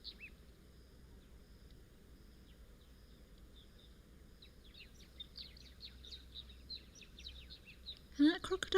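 Birds at a waterhole chirp and call faintly and repeatedly over a steady low outdoor hum, with a few sharper nearby sounds near the end.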